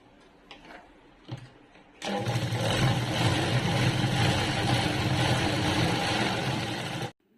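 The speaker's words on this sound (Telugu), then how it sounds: "లైనింగ్ పీసు పై పీస్ రెండు జాయిన్ చేసిన తర్వాత ఇలా లైన్స్ అయితే కుట్టుకోవాలి" A sewing machine stitches lines through joined lining and outer fabric pieces. After a quiet start with light handling noises, the motor starts at about two seconds and runs in one steady, loud burst for around five seconds, then stops abruptly.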